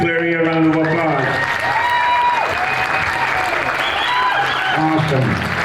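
Applause from a conference audience at an Indigenous wellness gathering in Edmonton carries on beneath sustained singing or chanting tones and a voice, the clapping steady from start to finish.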